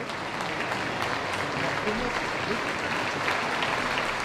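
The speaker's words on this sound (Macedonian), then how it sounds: "На закупот дојдоа и спасувачите кои беа пречекани со ракоплескање" Applause at a funeral ceremony for victims of a bridge collapse in Genoa, greeting the arriving rescuers; steady, dense clapping from a large crowd in a hall fills the whole stretch with a soft wash of noise.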